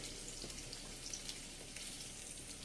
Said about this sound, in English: And in this same oil, I'm going to add the potatoes, the boiled potatoes from yesterday's lunch